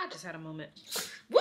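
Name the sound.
sneeze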